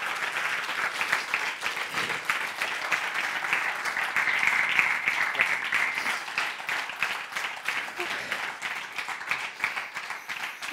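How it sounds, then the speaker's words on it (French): Steady applause from a seated audience at a youth event in Corsica, a dense wash of many hands clapping continuously at moderate volume throughout, with no voices over it. "Vous pouvez encore applaudir parce que c'est pas facile."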